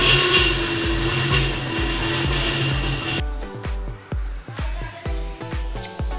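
A Honda CD70 motorcycle engine runs close up, first with a dense steady roar, then settling into a rhythmic single-cylinder thumping idle with regular chugging pulses.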